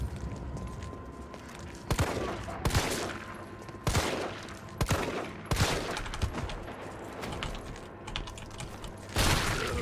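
Gunfire in the Resident Evil 3 demo, a series of loud, punchy shots fired in irregular bursts with short gaps between, heard alone without talk.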